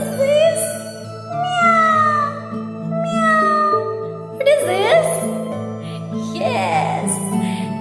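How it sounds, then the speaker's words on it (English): A cat meows several times over a light, tinkling musical backing, with clear repeated calls and one louder, more strained cry near the end. "Yes, this is cat. This is cat."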